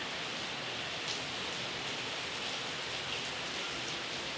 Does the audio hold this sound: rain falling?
yes